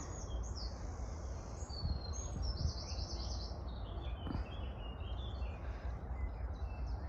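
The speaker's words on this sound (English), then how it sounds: "I can hear all the birds chirping away in the background." Birds chirp and twitter steadily in the background over a constant outdoor hum, fairly faint and continuous.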